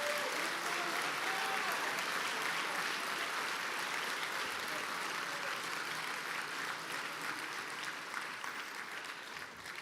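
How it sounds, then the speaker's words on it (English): An audience claps steadily and loudly for about ten seconds, the applause slowly thinning toward the end. "could we give these individuals a round of applause?"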